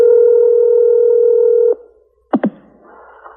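Telephone tone from a recorded phone line: a steady sustained dial tone for under two seconds, then silence, a pair of short sharp clicks, and faint line noise.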